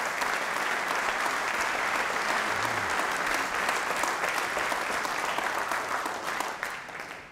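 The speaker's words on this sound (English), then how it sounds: "Give them a round of applause." Audience at a magic show applauding, a dense, even wash of clapping from a large crowd that holds steady and begins to fade at the end.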